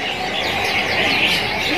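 AF canaries sing together at a bird market stall, a dense, continuous chorus of bright high chirps and trills with busy background noise throughout.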